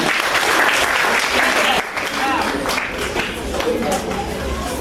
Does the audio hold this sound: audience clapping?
yes